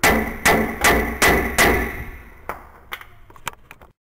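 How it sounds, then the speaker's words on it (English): Metal hammer taps on a 2007 second-generation Toyota Tundra rear wheel hub, knocking it loose from the axle housing: five sharp ringing strikes at a steady pace, then a few lighter, scattered taps before silence. "gently give these a little bit of a tap to separate it from the axle housing itself"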